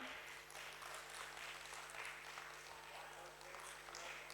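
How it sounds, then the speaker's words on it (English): Sustained audience applause at a stock exchange opening-bell celebration, a steady, dense wash of clapping that stays faint and distant throughout without a break. "Ladies and gentlemen, let's keep clapping"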